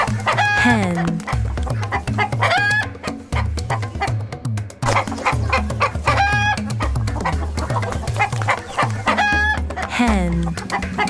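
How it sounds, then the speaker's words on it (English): Farm hen clucking and a rooster crowing, repeated calls in bursts close up, with a voice speaking between them. "Hen,"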